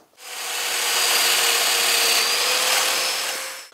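A domino joiner cuts a mortise into wood stock with a continuous loud whining buzz and hiss that spins up, holds steady for several seconds and stops abruptly, close and alone.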